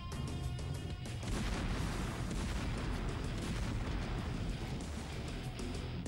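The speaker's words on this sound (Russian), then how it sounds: "Топливо взрывается с огромной силой." Rocket fuel explodes on a launch pad, a massive continuous roaring blast with rumbling low end that fills the whole stretch without letup.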